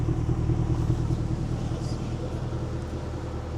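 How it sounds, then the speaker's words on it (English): A Mercedes-Benz CLK Black Series rated at roughly 500 horsepower idles close by with a steady, deep, even rumble, holding a constant low throb throughout. "Just a nice little idle. Sounds lovely."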